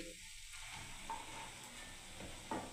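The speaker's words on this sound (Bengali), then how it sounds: "বড়াগুলো হয়ে গেলে এবার আমি নামিয়ে নেব বড়াগুলোকে" Bora fritters frying in hot oil: a quiet, steady sizzle with a few faint clinks of a utensil, close by, with no talking.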